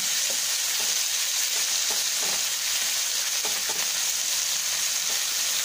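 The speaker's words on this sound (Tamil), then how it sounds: "கருவேப்பிலை எல்லாம் நல்லா வதக்குவோம் வெங்காயம் பூண்டு கருவேப்பிலை நல்லா வதங்கணும்" Onion, garlic and curry leaves sautéing in a pan for mini meal maker gravy, a continuous close sizzle and fry hiss with occasional stirring clatter and no voices.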